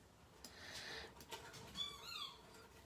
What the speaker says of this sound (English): Teddy bear's off playing with his squeaky toy